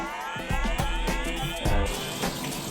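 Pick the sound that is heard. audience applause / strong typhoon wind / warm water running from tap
warm water running from tap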